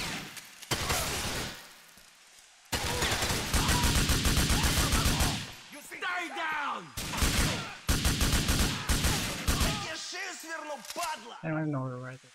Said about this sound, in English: Whoa, who's shooting, man?